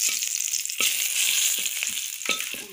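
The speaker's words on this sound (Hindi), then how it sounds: "ब्राउन होने तक थोड़ा फ्राई कर देती हूँ इसको।" Cinnamon and bay leaf sizzle steadily in hot oil, a dense close frying hiss broken by a few soft stirring scrapes, with no talking.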